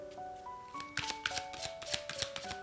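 Tarot color cards are shuffled by hand, giving a quick series of soft papery riffles and taps over a gentle sustained musical tone.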